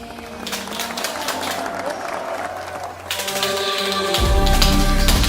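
A studio audience claps steadily through a comedy collage skit, thick clapping that swells louder near the end while music and voices play beneath it.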